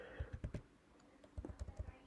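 Quiet typing on a computer keyboard, two short bursts of light clicking keystrokes separated by a pause, close and soft.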